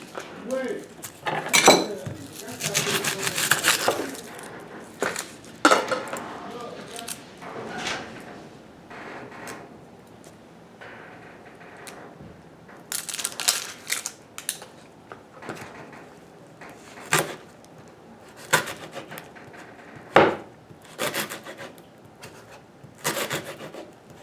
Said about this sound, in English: Then you cut your onion.